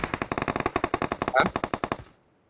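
Rapid automatic gunfire in a video game, a steady burst of about twenty loud close shots over two seconds that cuts off abruptly, with a brief voice-like blip partway through.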